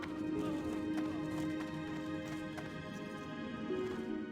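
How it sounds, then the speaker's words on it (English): Horse hooves clip-clop steadily in World of Warcraft, a continuous patter of steps set against a droning ambient music bed, moderately loud throughout without any talking. "There's a horses over there."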